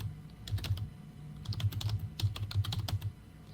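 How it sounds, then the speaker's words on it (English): Quick, irregular typing on a computer keyboard, close and fairly loud, with clustered bursts of key clicks and short pauses over a faint room hum. "While they're typing this"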